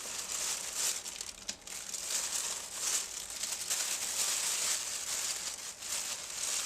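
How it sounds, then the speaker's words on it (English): Continuous crinkling and rustling of a plastic bag being handled up close, fairly loud with no speech. "Sorry for the rustly plastic bag sound."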